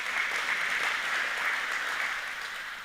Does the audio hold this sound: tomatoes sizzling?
no